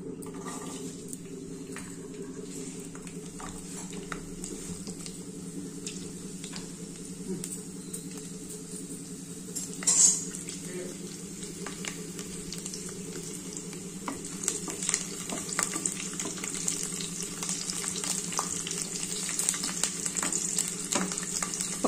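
Garlic with cumin and mustard seeds frying in hot oil for a tempering for flat-bean curry, a steady close sizzle with crackles, scrapes of stirring and a few sharp pops, no talk.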